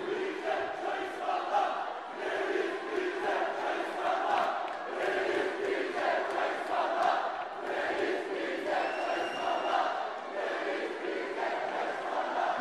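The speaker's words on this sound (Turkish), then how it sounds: "Samsun'u ziyaret eden Cumhurbaşkanı Erdoğan, salondaki gençlerin "Reis bize çay ısmarla" tezahüratlarını geri çevirmeyerek gençlerle çay içti" Young people in a hall in Samsun chant a Turkish slogan in unison at a political rally, a dense crowd roar of voices repeating rhythmically, loud and continuous throughout.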